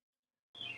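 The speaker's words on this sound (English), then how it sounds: "I can also hear the birds chirping" A short burst of high, bright bird chirping starts abruptly and rings out briefly, fairly close, with no talking.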